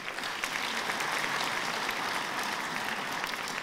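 An audience at a university gala evening applauds, a dense, even clatter of many hands that holds steady throughout.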